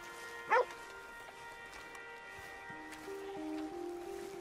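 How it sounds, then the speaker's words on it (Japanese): Dog in Red Dead Redemption 2 giving a single short, bright bark near the start, fairly close, then quiet game ambience with faint tonal sounds. "おっと、ワンちゃん。"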